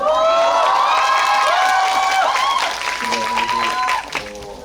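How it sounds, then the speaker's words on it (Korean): An audience at a Korean film talk event for the movie Exit claps and cheers loudly, with whoops and shouted voices at first, then the applause tapers as a speaker's voice returns near the end. "박수 한번 주세요"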